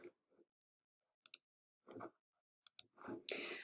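Computer mouse clicks during right-click-and-delete on class notebook pages in Microsoft Teams: a few sharp, close clicks scattered among quiet gaps, with brief soft handling noises between them.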